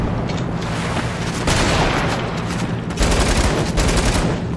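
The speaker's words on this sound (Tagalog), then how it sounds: "Ano na naman baril to? Ba't parang umuulit na yung mga baril?" Video game gunfire roars in dense, continuous automatic bursts, loud and close, with sharp breaks between volleys.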